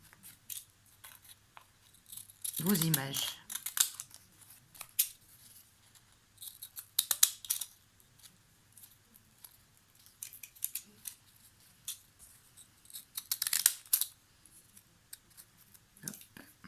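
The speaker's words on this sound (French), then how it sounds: "vous prenez vos ciseaux cranteurs" Pinking shears snip around cut-out paper images in a few crisp bursts of cutting, separated by quiet pauses and faint handling sounds.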